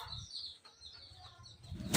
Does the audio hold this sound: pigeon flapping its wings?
yes